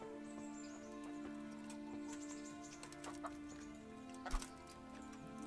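A chicken clucks in the medieval video game Kingdom Come: Deliverance, a few short, soft clucks and chirps over a steady tonal background of game ambience.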